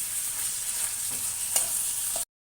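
Ginger garlic paste frying in a pan sizzles steadily and softly, with a couple of brief stirring scrapes before it cuts off abruptly.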